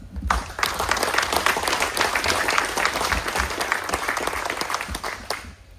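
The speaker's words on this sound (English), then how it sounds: "Everybody who helped on this project deserves our thanks and a great round of applause." A crowd gathered for the ribbon cutting of a Maryland wine house breaks into a full round of applause, dense steady clapping that holds for about six seconds, then begins to thin near the end.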